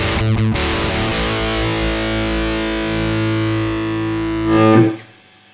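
Guitar through the dirty channel of a Behringer Ultra GI100 DI box with no filter, a loud, fuzzy distorted chord ringing out for several seconds before a final strum and abrupt cutoff.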